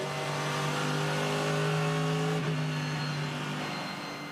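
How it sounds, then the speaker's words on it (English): A Mercedes-AMG GT race car at the Bathurst 12 Hour sends out a sustained, loud engine note with a steady pitch that holds for several seconds and then dips slightly, with no talk over it. "Nice and cautious across the top of the mountain for Brock Feeney in the 888 man filter Mercedes AMG"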